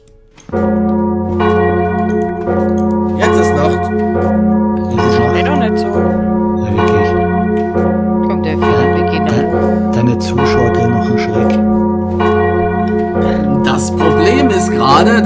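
Loud, ringing carillon bells in Minecraft chime in repeated strikes, their tones overlapping and sustaining, while voices talk faintly beneath.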